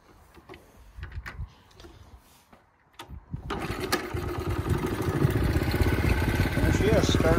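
A Honda CT70 four-speed minibike is kicked over with a few thumps and clicks, then the small engine catches and settles into a loud, steady idle close by.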